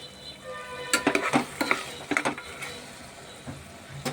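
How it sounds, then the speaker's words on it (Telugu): Tomato pieces and onions fry for a mutton curry, with a low sizzle under a quick run of sharp scraping and clattering stirs in the pan, close by and without speech. "టమాటా ముక్కలు కూడా వేసి ఇలా ఫ్రై చేసుకుందాం."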